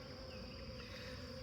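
Honey bees buzzing during an inspection of a new nuc hive, a dense continuous drone of many wings, close and steady throughout with no speech.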